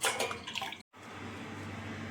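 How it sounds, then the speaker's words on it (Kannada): Water poured into a cooking pot to boil for Maggi masala noodles makes a steady, close splashing rush that breaks briefly for a moment, then continues as an even stream. "ಇಲ್ಲಿ ಮ್ಯಾಗಿ ಮಸಾಲ ಮಾಡೋದಕ್ಕೆ ನಾನು 2 ಗ್ಲಾಸ್ ಆಗುವಷ್ಟು ನೀರು ಹಾಕ್ಕೊಳ್ತಿದ್ದೀನಿ."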